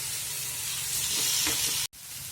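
Paneer fries in a hot spiced masala of onions, a loud, steady sizzle with occasional stirring scrapes, cut off by a brief silence near the end before the sizzle resumes.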